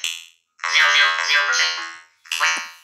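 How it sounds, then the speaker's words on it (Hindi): A voice changer app's robot effect turns a voice into a buzzy, metallic synthetic tone, heard as one long phrase followed by a shorter one after a brief pause, loud and close. "ये रोबोट की वॉइस है फ्रेंड्स,"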